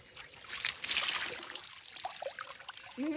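Water is poured at a stream in the rural Philippines, trickling and splashing close by over a few seconds among faint outdoor sounds, with a brief voice near the end.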